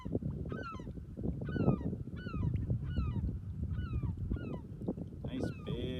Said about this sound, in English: getting dive bombed by a seagull